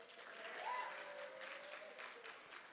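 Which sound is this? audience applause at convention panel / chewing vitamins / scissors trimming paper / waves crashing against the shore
audience applause at convention panel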